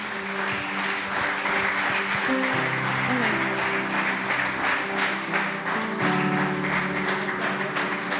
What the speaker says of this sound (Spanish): Dale un aplauso fuerte al Señor. Give God an applause.